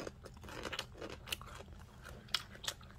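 Someone taste-tests freshly made radish kimchi, with close, quiet, crisp crunching and wet chewing repeating in an uneven rhythm.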